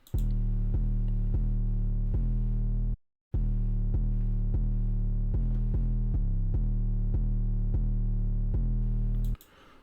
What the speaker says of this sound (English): So I made a simple bass line.